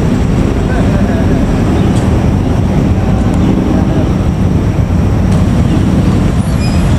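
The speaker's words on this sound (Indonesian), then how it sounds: "Lodaya pagi berjalan langsung menuju stasiun akhir stasiun Solo Balapan" The Lodaya morning passenger train pulls away from the station on its way to Solo Balapan, a loud, steady rumble of rolling wheels and carriages close by, continuous throughout with no clear talk.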